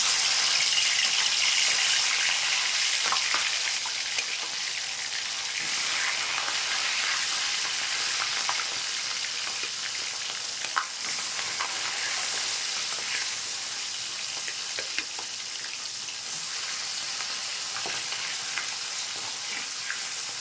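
Steady sizzling of bata fish frying in hot mustard oil, a continuous crackling hiss with occasional sharper pops, close and fairly loud throughout.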